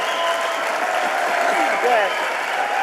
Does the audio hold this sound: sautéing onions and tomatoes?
no